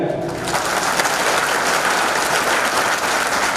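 A crowd at a religious gathering applauds a child with loud, sustained clapping that fills the whole stretch, dense and unbroken, with no talk over it.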